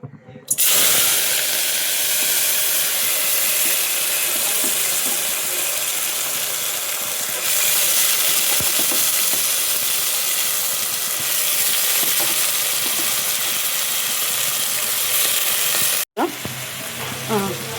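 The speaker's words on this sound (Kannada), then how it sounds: "ಮೊಳಕೆ ಕಾಳನ್ನ ಈ ಎಣ್ಣೆಗೆ ಹಾಕಿ ಸ್ವಲ್ಪ ಫ್ರೈ ಮಾಡ್ಕೊಳ್ಳೋಣ" Sprouted gram legumes sizzle and fry in hot oil, a loud, steady crackling hiss that runs continuously with occasional stirring scrapes and a brief break near the end.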